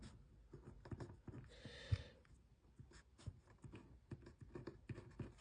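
A pen writing out calculations on paper during a design and technology revision lesson, giving faint, close scratching strokes in an irregular rhythm with a brief rustle midway and no talking.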